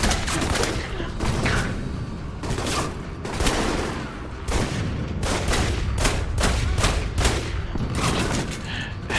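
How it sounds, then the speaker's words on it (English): A sentry gun fires in the video game Alpha Protocol, loud rapid bursts of shots repeating steadily throughout, with dense booming reports close up. "Oh, it's a sentry gun."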